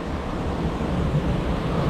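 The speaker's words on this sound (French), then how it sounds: "les cascades arrivent vraiment" Steady rushing, splashing water roar from a waterfall on a theme park water ride, loud and close, filling the whole clip with constant turbulent noise.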